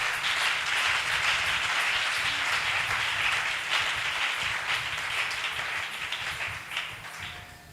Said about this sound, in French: Tobeteli kolo maboko.